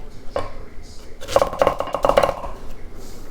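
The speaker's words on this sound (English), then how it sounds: "Next, we're gonna dice 1/2 to 1/4 of an onion" Knife dicing an onion on a board, a quick cluster of close, crisp chops in the middle after a single earlier tap, with a faint voice nearby.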